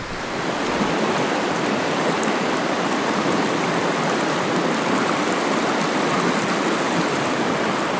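A winter mountain brook, home to small brook trout, rushes steadily over rocks, a dense, even wash of flowing water close by with no voices.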